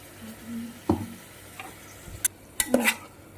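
Chicken coated in ginger-garlic, onion and green chilli paste with turmeric, chilli powder and salt, frying in a pan under a soft sizzle, with a few sharp scrapes and clinks of a spoon stirring against the metal.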